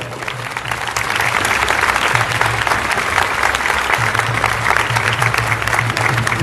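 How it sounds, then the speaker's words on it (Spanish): Congregation applauding during a Catholic bishop's New Year's Day homily in church, a steady, dense wash of many hands clapping that fills the space evenly from start to finish. "la saludamos con un aplauso"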